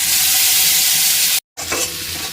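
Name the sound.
whole spices and bay leaf frying in a wok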